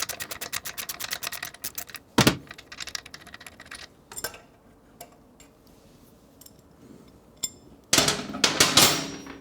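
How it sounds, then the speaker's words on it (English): Ratcheting socket wrench clicks while an engine guard bolt is tightened on a Triumph Street Scrambler 900 motorcycle, with close, rapid bursts of clicking, separate metallic knocks and quiet pauses between. "So again with our 17mm wrench, gonna hold that nut back there. A 16mm socket."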